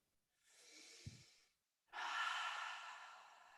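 Deep breathing during meditation, one slow breath followed after a short pause by a longer, louder one, close and airy with no talk.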